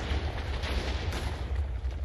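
Blocks of TNT detonating in Minecraft roll out as a steady barrage of deep booms and crackle, loud and unbroken, with a faint high whine above and no voices.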